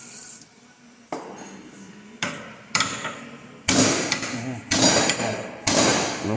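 Hammer strikes on a rubber control arm bushing of a Honda Civic, seven sharp metallic blows spaced about a second apart, growing louder and close by.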